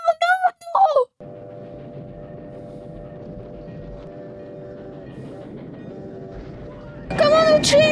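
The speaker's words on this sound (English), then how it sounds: "Oh, oh, there is a train." Train rolling past in the film Stand by Me, a steady mechanical rumble lasting several seconds with a reaction voice at the start and end.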